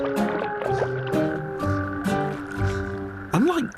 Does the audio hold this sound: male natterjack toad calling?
yes